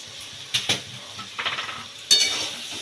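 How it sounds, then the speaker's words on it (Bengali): Soaked chow noodles hit a hot pan for a homemade chicken chow, giving a couple of sharp scraping clanks, a soft sizzle, and stirring scrapes ending in a louder burst of frying hiss. "এই সময় আমি আস্তে আস্তে করে এই জলে ভেজানো চাউটা অল্প অল্প করে দেব।"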